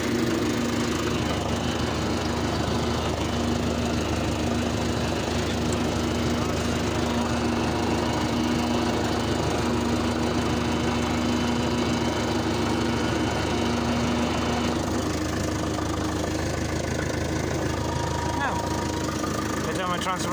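Fordson Major tractor with a front loader running steadily while reversing: a continuous, close diesel engine drone with a low throbbing rumble throughout, with slight changes in tone as it moves.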